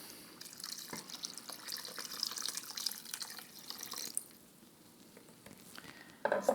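Two cups of water are poured into a simmering pot of Quebec split pea soup. Soft splashing and trickling sound faintly under a quiet background hiss, ending with a few louder clinks.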